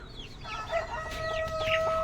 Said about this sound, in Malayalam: ഇപ്പോൾ ഒരുപാട് കോഴികൾ ചീറിയിട്ടുണ്ട്. ഒക്കെ ചെറിയ കോഴികളാട്ടോ.